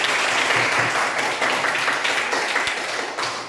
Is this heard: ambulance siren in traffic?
no